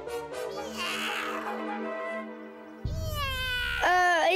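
Cartoon kitten meowing in several drawn-out, high mewling cries, the last ones louder and more wavering, heard alone without talk.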